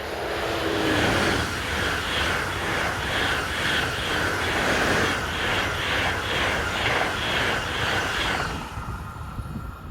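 A Class 402 trainset running along a busy main line, a loud steady rumble with rhythmic wheel clatter over rail joints that eases off near the end.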